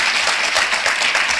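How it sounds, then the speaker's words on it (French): Applause rises from an audience at a formal event in Djibouti, a dense, even patter of many hands clapping throughout. "que je demande d'applaudir, s'il vous plaît"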